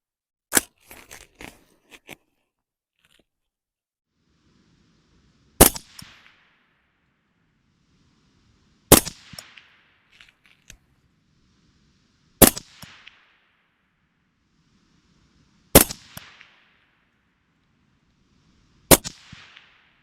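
AR rifle with a 14.5-inch barrel fired at a 200-yard target: six sharp, loud outdoor cracks spaced several seconds apart, each trailed by a brief echo, with faint handling clicks at the start and near silence between shots.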